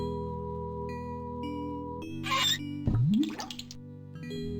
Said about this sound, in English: Use the bucket with the water pump.